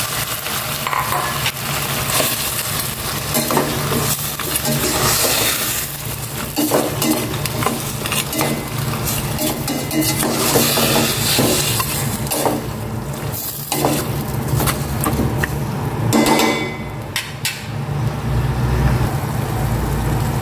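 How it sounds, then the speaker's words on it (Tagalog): Pork sautéing in a hot pan, with a steady loud sizzle that runs the whole time. Frequent scrapes and clatters of a utensil stirring sound up close. "Igisa ko na rin itong pork."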